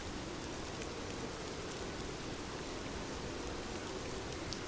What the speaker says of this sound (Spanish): La lluvia caía en densas cortinas sobre la carretera desierta.